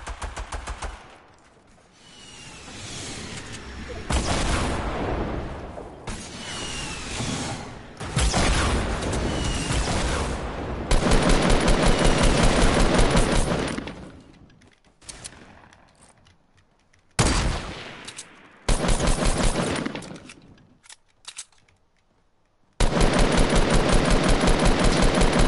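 Repeated bursts of automatic gunfire crack out in Fortnite, loud clusters broken by short quiet gaps across the stretch, with no talking.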